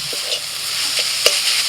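Minced chicken filling for momos stirred in a hot pan, with scraping and light sizzling in short irregular strokes, close and fairly quiet, no talk.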